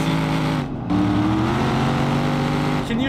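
A V8 car engine in the BeamNG.Drive video game revs hard and close, its pitch climbing steadily after a brief dip, loud and sustained.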